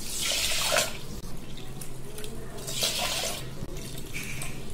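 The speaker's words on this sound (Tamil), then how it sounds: "டம்ளர் நிறைய தண்ணி வச்சாச்சு" Water poured from a steel tumbler into a pressure cooker holding rice, a splashing, trickling pour in two bursts with a short pause between, close and fairly loud in a home kitchen.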